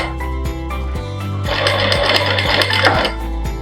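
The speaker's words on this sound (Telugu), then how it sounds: "చూడండి ఎలా సైడ్ వార్నే వేస్తున్నాను స్టిచ్." Sewing machine stitching piping onto a fabric garment body, a steady rapid mechanical whirr with repeating needle thumps, close and continuous.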